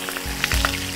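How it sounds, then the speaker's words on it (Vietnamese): Freshwater prawn claws frying in hot oil for garlic butter prawns, giving a close, steady sizzle with scattered crackles and pops through one brief moment. "Lúc này Uyên Thi cũng không quên bỏ những cái càng tô càng con tôm vô chiên."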